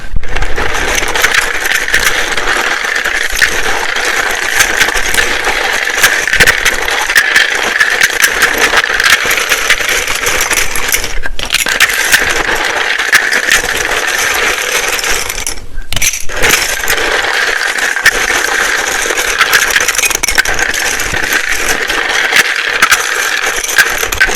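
A deck of tarot cards is shuffled loudly and continuously up close, a dense riffling rattle with two brief pauses partway through.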